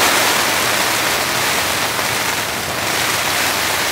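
Heavy rain storm pounding on a huge camping tent, a dense, steady roar of rainfall that stays loud and unbroken throughout, with no voices.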